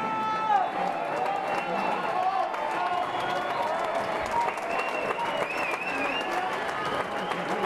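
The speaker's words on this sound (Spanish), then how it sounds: "ese aplauso bien fuerte" Loud, sustained applause from a large crowd at a guitar festival concert in Capilla del Monte, Argentina, dense and steady throughout with no pauses.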